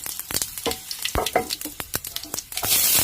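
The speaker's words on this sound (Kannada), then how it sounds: "ನೋಡಿ ಸಾಸಿವೆ ಮೆಂತ್ಯ ಸುಳಿತಾ ಇದೆ" Mustard and fenugreek seeds spluttering in hot oil, rapid irregular pops and crackles over a sizzle, ending in a louder hiss, with no voices.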